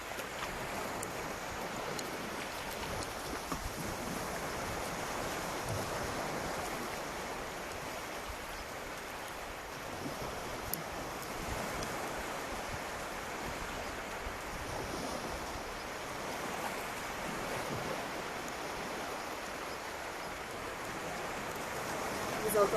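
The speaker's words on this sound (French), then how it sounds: "Le bruit des vagues." Soft, steady wash of ocean waves breaking on a beach in the quiet morning, a faint continuous surf hiss with gentle swells, slight wind noise and no other sounds.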